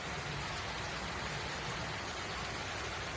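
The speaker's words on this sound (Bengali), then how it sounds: "এই যে দেখো জোরে বৃষ্টি চলে এলো" Heavy rain pours down steadily in a dense, even hiss that fills the whole stretch, loud and continuous, with no voices.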